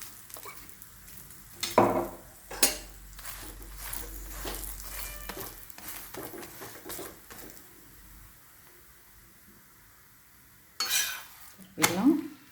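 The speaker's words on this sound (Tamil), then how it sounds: "ஒரு சிம்மில் வச்சு நல்லா சூப்பராக அப்படியே ரோஸ்ட் பண்ணி எடுக்கணும்." Aloo paratha roasts on a pan with oil, giving a faint low sizzle interspersed with clinks and scrapes of a utensil against the pan, a few louder knocks near the start and end.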